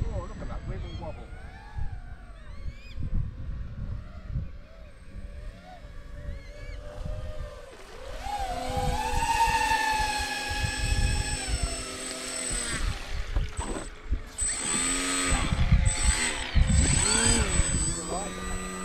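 Engine of a radio-controlled floatplane revving on a lake, its buzzing drone rising and surging in pitch, loud and close, with people talking over it.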